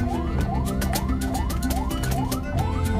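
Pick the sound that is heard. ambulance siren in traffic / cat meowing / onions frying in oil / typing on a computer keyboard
ambulance siren in traffic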